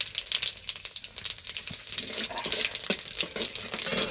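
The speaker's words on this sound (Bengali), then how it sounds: "এবার ফোড়ন দিয়ে দিব।" Whole spices such as cardamom, cinnamon, cloves, bay leaf, dried red chilli and cumin seeds sizzle steadily in hot oil for tempering in a home kitchen, a loud continuous crackling hiss with no talk.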